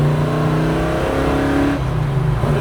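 A 1969 Chevrolet Chevelle SS pulling hard in first gear toward a 3,000 RPM shift, its loud, close engine rising in pitch before the revs drop at the gear change.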